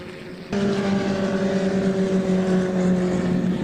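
Historic Formula Ford racing cars at Donington Park, including a Merlin Mark 20A, drone past with a steady, sustained engine tone that swells abruptly after a brief quieter opening and holds loud and even.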